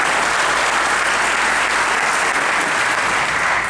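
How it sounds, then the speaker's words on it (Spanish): A church congregation bursts into loud, dense, sustained applause that fills the whole space. "Denle un fuerte aplauso a Jesucristo."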